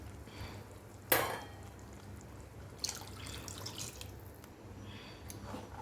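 Water splashes into a cooking pot of rice in a home kitchen, a sharp pour near the start and a second smaller splash later, with light drips and stirring between and no talk.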